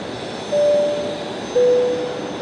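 Qatar Airways jet aircraft at Brisbane Airport at night: a steady, fairly distant broadband engine roar, with two short tones sounding over it.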